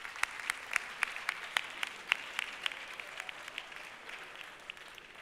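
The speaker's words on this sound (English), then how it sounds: "Shall we give them a round of applause?" Sparse, faint applause from a small audience for spoken word contestants, individual claps standing out in an irregular rhythm and thinning out toward the end.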